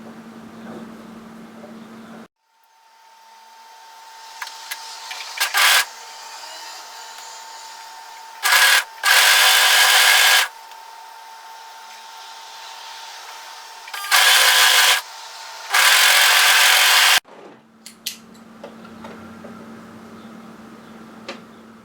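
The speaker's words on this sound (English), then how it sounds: "we're going to overlock this here" An overlocker serges cardigan fabric in several loud, steady bursts of machine whirring, separated by short pauses, with a quieter hum running between the runs and before and after them.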